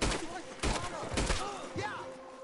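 Gunfire in Red Dead Redemption 2 during a robbery: several sharp shots a couple of seconds apart, close and loud, mixed with shouting voices and game sound.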